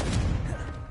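A Confringo fire blast spell bursts in Hogwarts Legacy on PS5, a loud, booming explosive rumble that fills the whole second with heavy low thuds and no talk.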